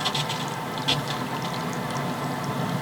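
Water rushes in to fill the supply pipe of an off-grid micro hydro Turgo turbine with four nozzles, a close, steady gushing and gurgling flow with no speech.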